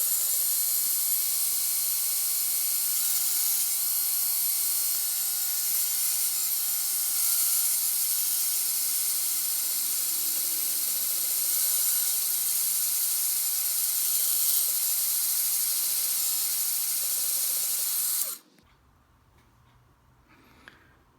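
Machine cutting a Tamiya Mini 4WD rear mount part, a loud, steady high-pitched whine running continuously for about eighteen seconds before stopping abruptly, followed by near silence.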